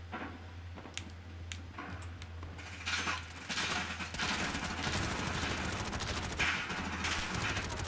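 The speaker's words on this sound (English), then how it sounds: "Where are they shooting at me?" Gunfire in the first-person shooter game Modern Warfare, with rapid bursts of shots that grow denser and louder midway and continue over a steady low game hum.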